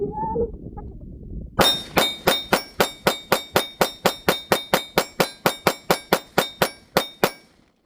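A Ruger 5.7 pistol fed from a PSA Rock magazine fires a rapid, evenly spaced string of about twenty sharp shots, each with a short ringing decay, without a pause and with no talking.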